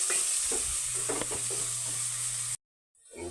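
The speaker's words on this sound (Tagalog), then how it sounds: "Lagyan na natin itong sibuyas. Lagyan natin maluto itong sibuyas." Onions sizzle steadily in a hot pan for pork menudo, a close hiss with a few stirring scrapes, cutting off abruptly into silence before the frying noise creeps back.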